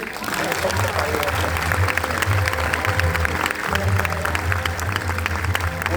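Audience applause follows a poem recited after a performance of Sankarshan Karhade's Marathi play 'Kutumb Kirtan'. The clapping is dense and steady for about six seconds, with a low hum under it.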